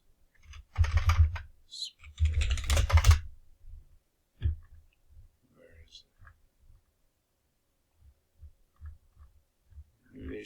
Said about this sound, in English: Let me type it up.